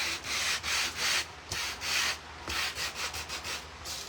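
Light hand sanding of wood with 220 grit sandpaper, a steady run of soft raspy strokes back and forth, close and fairly loud, with no talking.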